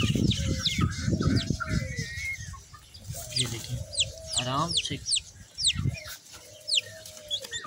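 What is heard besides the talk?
pigeons and chicks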